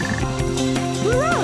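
A frog croaks in the video game Sonic Heroes, loud and close amid layered game music and effects, ending in a rising, warbling call.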